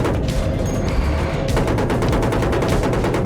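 Rapid machine gun fire in Battlefield 1943, with a dense stream of close, loud shots continuing through the clip amid battlefield noise and no talk.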